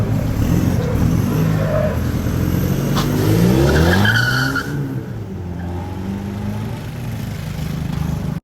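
A Toyota Hilux engine revs through a newly fitted side-exit exhaust in a Bohol workshop, its note sweeping up and then settling back to a steady, fairly loud idle rumble, with no talking.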